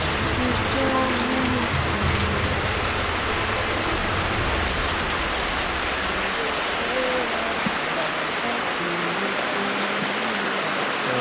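Steady, dense rain pours down over an outdoor community youth event, a continuous close hiss of drops on surfaces with faint voices underneath.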